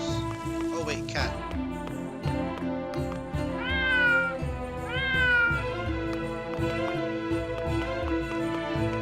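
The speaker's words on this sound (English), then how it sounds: "Oh wait, cat." Repeated meows from a cat in a video game rise over steady tonal music and a rain-like patter, two clear calls standing out mid-stretch.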